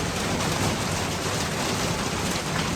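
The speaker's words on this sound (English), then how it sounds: "Anyway, it's raining." Steady rain falls outdoors on a lawn, a dense, even hiss with a low rumble running unbroken and fairly loud throughout, no voices.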